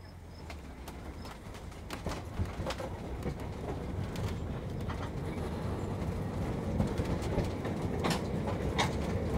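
A train rolls past at a steady, continuous level, with low rumble and scattered clicks and clacks of wheels over rail joints throughout, no voices.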